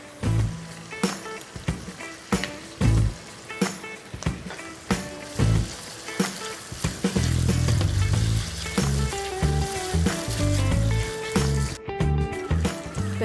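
Ginger garlic paste sizzling in hot oil in a pan for capsicum rice, a steady loud frying hiss with intermittent clinks and stirring sounds, building denser and fuller partway through.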